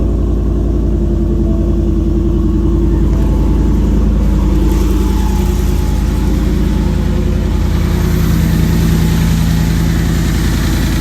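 A Ford F150 pickup idles with an aftermarket exhaust, a loud, steady, deep rumble that drones close by for the whole stretch with no talking over it.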